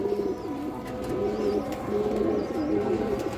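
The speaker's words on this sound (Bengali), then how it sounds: "খুব সুন্দর এক পেয়ার কালো গলা কবুতর" A pair of black-necked flying pigeons coos close by in repeated rolling phrases, a steady rhythmic series of throaty calls over a faint background hiss.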